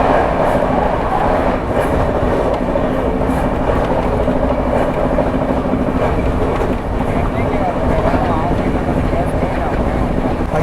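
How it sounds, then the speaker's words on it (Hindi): Maharashtra Sampark Kranti Express rushing past Faridabad at around 130 km/h, a loud, steady roar of wheels and carriages with faint rhythmic clatter throughout, heard from close by. "क्या स्पीड में स्किप मार रही है भाई फरीदाबाद को। फ्लैट 130 पे निकल रही है यहाँ से।"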